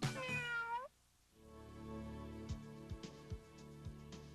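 A short, high, harmonic mechanical meow from a Kitty So Real toy kitten opens the clip, followed by a quiet pause and then soft electronic tones with a few light clicks.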